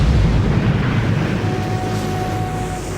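A nuclear bomb explosion, the Tsar Bomba, comes through as a loud, continuous low roaring rumble that stays strong the whole time and eases only slightly toward the end, with no talking over it.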